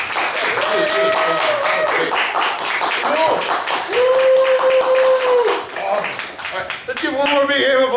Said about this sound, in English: One more big hand of applause for Edie.